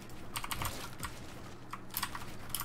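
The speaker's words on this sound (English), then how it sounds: "Sorry if my keyboard is loud, I apologize." Bursts of clicky computer keyboard typing, close and fairly loud, with keystroke clusters separated by short pauses; no voices.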